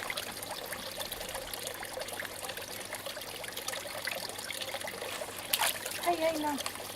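Water trickles and splashes quietly and continuously at an aquaponics setup, with a small splash near the end, while children talk faintly in the background.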